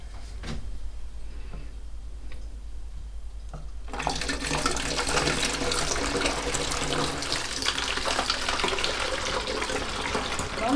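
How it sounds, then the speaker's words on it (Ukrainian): Homemade hibiscus kvass pours steadily into bottles after a quiet start, a continuous splashing gush of liquid that stays loud and close to the end. "Тепер я його зливаю в пляшки і поставлю в холодне місце."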